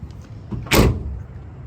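The tailgate of a 2018 Toyota Tundra pickup is opened, with a brief latch click and then a short loud metallic clunk, close by.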